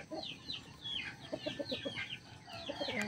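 A White Kelso fighting rooster at a cockfighting derby gives a series of short, close clucking calls under a steady rough background, with no talk.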